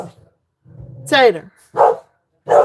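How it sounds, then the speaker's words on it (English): Two small house dogs barking, one sharp high yelping bark followed by two more barks at a steady pace, close and loud, with someone speaking briefly just before. "Because the dogs are gonna go nuts."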